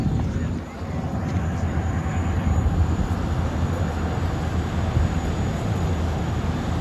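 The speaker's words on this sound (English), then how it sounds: "We have a Boeing 747 that's landing." A Boeing 747 airliner lands at the Dubai Airshow, its engines a broad, steady roar sustained across the whole moment, loud and constant with voices mixed in beneath.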